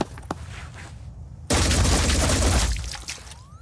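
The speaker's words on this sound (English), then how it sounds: "GC points machine gun towards the enemy's torso" Machine gun fire in the turn-based tactics game Phoenix Point: a faint shot or two, then a sudden loud, dense burst of rapid gunfire lasting over a second before tapering into scattered echoes.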